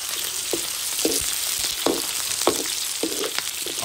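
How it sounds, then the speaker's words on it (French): Onions sautéing in a pan give a steady sizzling hiss with repeated soft clinks and stirring scrapes every half second or so, close and moderately loud, with no talking. "Je saute toujours mes oignons."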